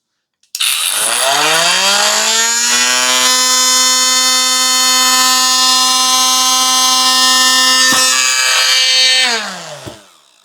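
A Parkside PWSAM 20-LI B2 cordless angle grinder whines up to a loud, steady high-pitched scream, holds for several seconds with one brief dip, then spins down and stops.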